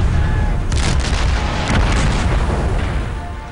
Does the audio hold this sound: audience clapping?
no